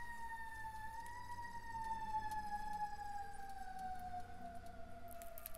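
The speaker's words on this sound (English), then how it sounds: "Oh, geez, you hear that fire truck?" A fire truck siren near a fire station wails steadily in a long, slowly falling tone, fairly close and continuous, over a low rumble of background traffic.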